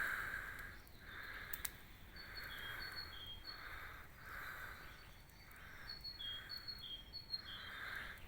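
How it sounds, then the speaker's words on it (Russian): Birds sing outdoors near a campfire in the woods, repeating bright chirping phrases in a steady rhythm at moderate distance over a soft, constant ambient hiss. "Птички поют."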